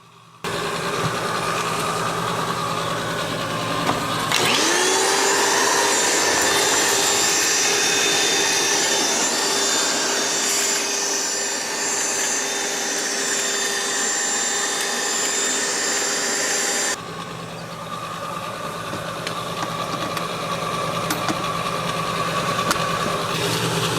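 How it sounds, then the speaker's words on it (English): An indoor ash vacuum runs outdoors while cleaning ash from the firebox of an outdoor wood boiler. Its steady, whining motor drone holds for about twelve seconds over a low background hum, then cuts off sharply. "I can bring our indoor ash vac out to clean up this box"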